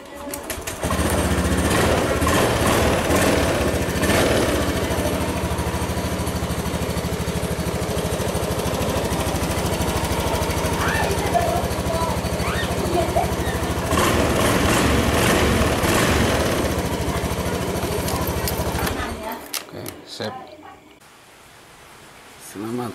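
A Honda Beat scooter engine, fired with the electric starter, runs at a steady droning idle for most of the stretch before cutting off near the end, with a voice speaking over it.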